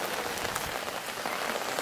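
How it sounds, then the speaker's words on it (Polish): Heavy rain pours down steadily outdoors at a fishing spot, a dense, close, continuous patter with no voices. "Teraz znowu leje."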